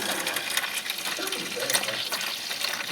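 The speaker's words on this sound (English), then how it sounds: "These vehicles, they got a drain hose." Coolant drains from the radiator drain hose of a 1998 GMC Jimmy into a pan, making a steady close splashing trickle of liquid with no talk.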